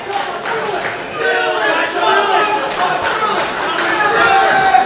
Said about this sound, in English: the crowd is chanting for Phyllis, who chopped him